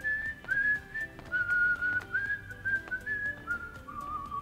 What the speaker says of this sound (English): There's nothing that drives me more nuts than someone whistling in the theater.